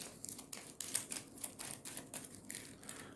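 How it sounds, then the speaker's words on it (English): A deck of playing cards is shuffled during a solo print-and-play card game, making faint, quick flurries of papery clicking and fluttering with no voices. "shuffle."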